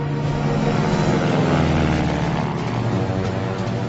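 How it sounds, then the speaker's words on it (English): A French Spad 7 fighter plane drones loud and steady, the propeller engine a continuous, rough buzzing roar that fills the whole moment with no break. "A Spad, an enemy fighter."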